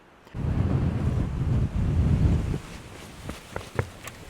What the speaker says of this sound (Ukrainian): Жесть, оце пориви вітру.